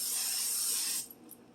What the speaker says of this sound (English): I'm going to take a butter spray, just spray.